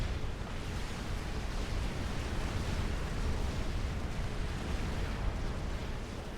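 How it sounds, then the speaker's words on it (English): A Super Nuke explosion destroys an airbase in the strategy game Supreme Commander, heard as a steady, dense rumbling roar that holds at an even, fairly quiet level throughout. "And here's the Super Nuke finishing off the airbase."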